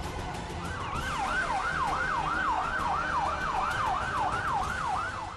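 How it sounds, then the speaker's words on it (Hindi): An ambulance siren in Lebanon after pager explosions wails in rapid, regular up-and-down sweeps, clear and fairly close, over a low background of traffic. "एम्बुलेंस की सायरन की आवाज आप सुन सकते हैं।"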